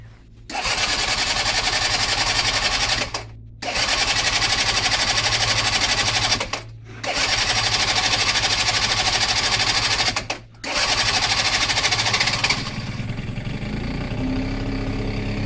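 A small Grido scooter engine, being restarted after standing, is cranked in four long, loud whirring bursts with brief pauses, then catches and settles into a steadier, quieter idle.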